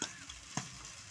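Chowmein being stir-fried with vegetables, fried potato, beans and fried egg in a pan, a steady close sizzle with a couple of sharp scraping stirs.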